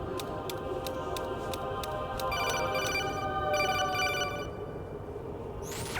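Incoming call ringing in a Metal Gear video game: a rapid string of bright electronic beeps pulsing at a steady rhythm, clear and moderately loud over a faint background hum.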